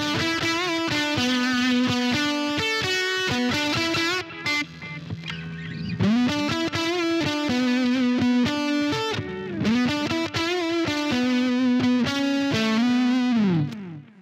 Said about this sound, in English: Down the end, I have the fuzz by itself with an echo.